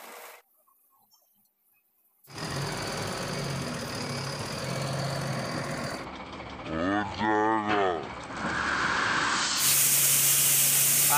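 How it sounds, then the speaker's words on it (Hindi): Water poured onto a concrete roof slab makes a steady rushing, hissing splash that begins after a short silence and runs on loudly. A brief burst of voice breaks in partway through. "पानी डाल दिया कुछ।"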